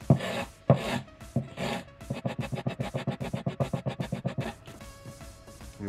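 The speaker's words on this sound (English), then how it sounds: "What you can do is literally just scrape it along the edge." Repeated rhythmic rasping strokes as a wooden piece for a banner pole is scraped along its edge to round it off, a steady close series of short scrapes with a few heavier strokes at the start.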